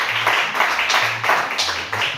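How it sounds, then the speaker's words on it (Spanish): Church congregation applauding in a short burst, broadband clapping swelling and dipping in uneven waves, with a low hum of voices or instruments underneath. "Vamos a brindar un fuerte aplauso a nuestro Dios."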